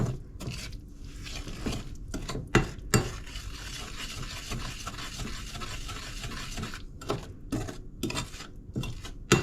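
Melted butter is stirred in a pot for banana bread, a spoon scraping and knocking against the metal in uneven bursts over a soft sizzle, close by and fairly quiet with no voices.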